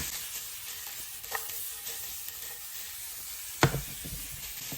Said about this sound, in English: Dropping in the onion. And then you're gonna wanna hit it with a big pinch of salt right away, which will help cook it faster.